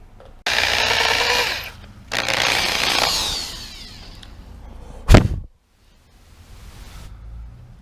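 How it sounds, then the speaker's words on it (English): Loud bursts of drilling out a metal intake part with grinding, whirring passages separated by pauses, plus a sharp thump partway through; no talking. "Now we just gotta drill this out a little bit more"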